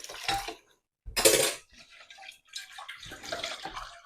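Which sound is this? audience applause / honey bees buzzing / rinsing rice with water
rinsing rice with water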